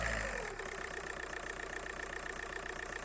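An engine starts with a brief heavy surge, then settles into a steady, rhythmic idle that runs evenly and fairly close, with a fast regular pulsing beat and no voices.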